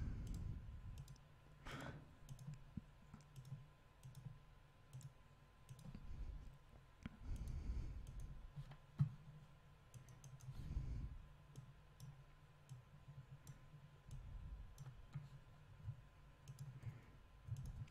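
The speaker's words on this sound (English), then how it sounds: "I'm just control clicking the nodes now" Computer mouse clicks while control-clicking and deleting nodes in Inkscape vector drawing software, a scattered series of quiet, sharp clicks at irregular intervals over faint low room hum, with no talking.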